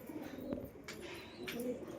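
A rock pigeon at a rooftop loft gives soft low coos, close and fairly faint, with a couple of brief rustles or wing movements and no voices.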